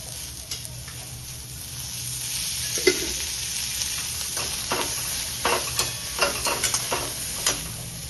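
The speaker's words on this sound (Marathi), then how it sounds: "कांद्याला तांबूस रंग येईपर्यंत, गुलाबी रंग येईपर्यंत कांदा परतून घेते." Sliced onions sauté in oil toward a pinkish golden colour for a village-style matki curry. A steady soft sizzle runs throughout, broken by light scraping and stirring clicks, mostly in the second half.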